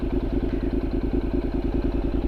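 A Honda CTX700 motorcycle with fuel injection idles close by, its engine putting out a steady, even, rapid pulsing throb with no revving and no other sounds.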